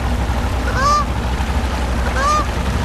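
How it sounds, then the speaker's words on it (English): A goose gives two loud, nasal honks about a second and a half apart outdoors over a steady low background rumble, with no one speaking. "That daggone goose mess with you"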